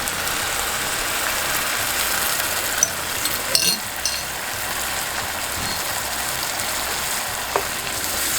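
Garlic and onion simmering in a pot with coconut cream, a soft continuous sizzle and bubbling hiss with a few faint utensil taps, no talking.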